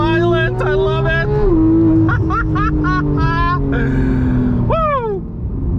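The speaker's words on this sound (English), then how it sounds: "Isn't that the most beautiful six-cylinder soundtrack that you have ever heard in your life?" A Porsche GT3's six-cylinder engine roars through a launch-control start, loud and close, its revs climbing in repeated sweeps through quick gear changes.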